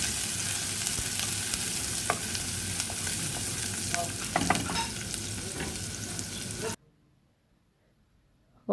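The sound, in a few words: onion being tempered in oil in a pan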